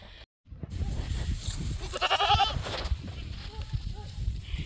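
Goats bleat several times close by amid rustling straw and shuffling, with a person talking softly underneath.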